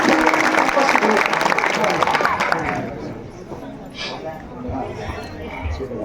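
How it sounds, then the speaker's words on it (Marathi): Crowd applause welcoming a guest at a village kirtan gathering, a loud burst of dense clapping that fades after a few seconds into quieter murmur and scattered sounds. "त्यांचा जोरदार टाळ्या वाजून स्वागत करायचं"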